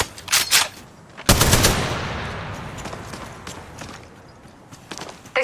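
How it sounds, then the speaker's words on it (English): Enemy gunfire in the mobile game Apex Legends Mobile: a few quick shots, then a loud burst that rings and fades, with scattered lighter shots after it. "They spotted me. Opening fire. Shot fired at me. They're shooting at me."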